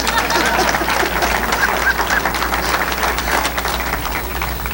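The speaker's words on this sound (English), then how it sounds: "Give him a little round of applause over here, will you?" Sustained audience applause fills a hall during a Watertown Hall of Fame induction ceremony, a dense, steady clatter of many hands clapping at close range without a break.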